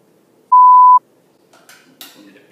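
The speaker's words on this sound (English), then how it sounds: "I need a beep there." A loud, pure censor beep at a single steady pitch lasts about half a second against near silence, followed by faint rustling and handling noises.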